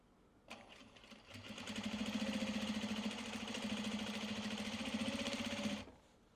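A sewing machine stitching Japanese fabric for a sling bag runs in a steady rapid mechanical whir for about five seconds, close and loud, then stops abruptly as the needle breaks.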